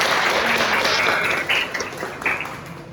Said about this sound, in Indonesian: Berikan tepuk tangan untuk teman Anda, luar biasa